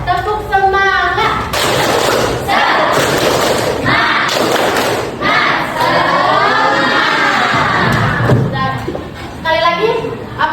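Loud school-class clapping in rhythmic bursts alternates with voices chanting "tepuk semangat" in unison, the pattern repeating several times nearby.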